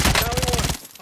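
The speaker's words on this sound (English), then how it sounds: "I'm taking fire!" Rapid gunfire in a multiplayer shooter video game, a dense rattling volley of shots for most of a second that cuts off abruptly, with faint speech.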